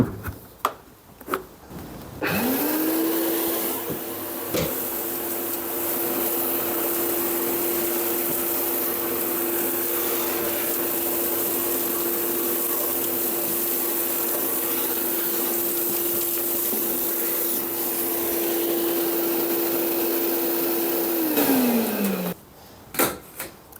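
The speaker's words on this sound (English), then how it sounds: "We'll suck some dust from the bucket and see how it goes into the separator" A shop vac draws dust from a bucket through a cyclone separator, its motor spinning up to a steady, loud whine that holds unbroken for about twenty seconds before winding down, with a few clunks at either end.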